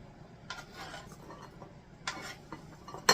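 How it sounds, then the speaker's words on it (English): Chili cheese waffle fries scraped and dropped into a bowl in a home kitchen, with soft clinks and scrapes of utensil on dish in short bursts and a sharper clink near the end. "let's put this in a bowl"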